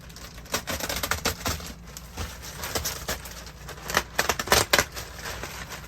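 A blade slicing through the plastic wrapping of a compressed RV mattress, uneven bursts of crackling, ripping and scraping up close, with no talking.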